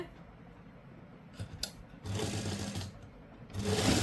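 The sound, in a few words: sewing machine stitching a suit's rib fabric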